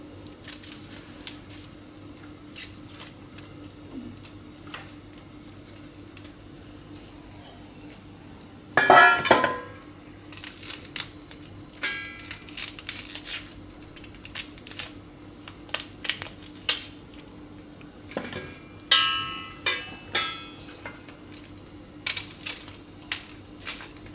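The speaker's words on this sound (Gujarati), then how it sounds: "તો ડુંગળી આપણે આ રીતે ટુકડા કરી લીધા છે" Onion pieces being cut on a board for a Gujarati masoor makhni, heard as scattered sharp knife taps and clinks of varying loudness, with a louder burst of clatter partway through and no voices.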